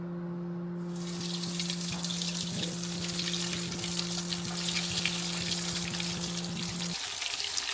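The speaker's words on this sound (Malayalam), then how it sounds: "ഇനിയിപ്പോൾ എണ്ണയിലിട്ട് വറുത്ത് കോരിയാൽ മതി" Chicken cutlets sizzle in hot oil, a steady bubbling crackle that starts abruptly and continues at moderate level beneath a constant electrical hum.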